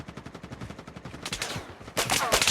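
Gunfire from a shooter video game with a helicopter, starting as a rapid even train of shots, then louder, denser bursts toward the end, all fairly close and without talk.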